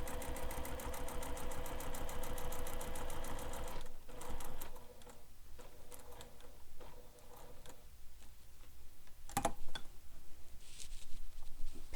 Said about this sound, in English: So I'm actually going to stitch up this center right now.